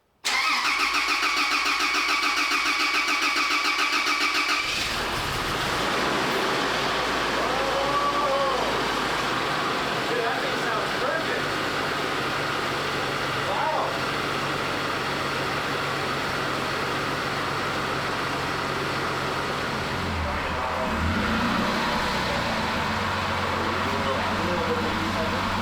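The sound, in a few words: Toyota Land Cruiser engine cranking, starting and idling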